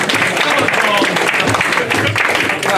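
Audience at an end-of-season football club awards night clapping for a staff member, a loud dense wash of applause with voices talking and calling out over it.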